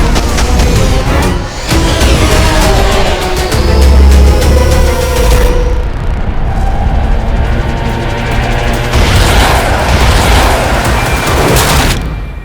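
Loud, dense explosions from a TV action show, with rapid booming bursts and crackling blasts layered over one another almost continuously, like a fireworks barrage mixed with gunfire.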